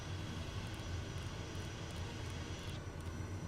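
A SWS Kodiak 100 single-engine turboprop on its takeoff run in Microsoft Flight Simulator 2024, a steady broad engine roar with a deep low rumble and a faint whine, constant and loud with no talking.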